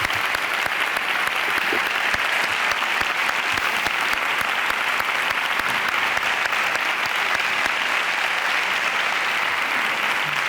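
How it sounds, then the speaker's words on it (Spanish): An audience at a health and nutrition congress in Madrid gives a speaker a long, loud, sustained round of applause, a thick unbroken wash of many hands clapping with no speech over it. "un fuerte aplauso para Antonio Escotado"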